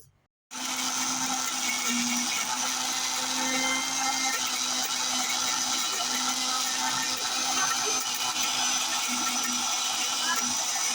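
A mixer grinder whirs steadily at close range, blending red chilli chutney, with a constant motor drone and a high whine that start abruptly after a brief silence and keep going without a break.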